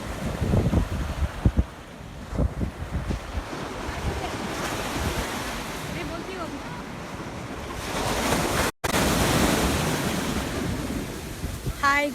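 Ocean waves crash and wash steadily at Varkala beach, a cliff-backed shore, loud and continuous with heavy wind rumble across the microphone.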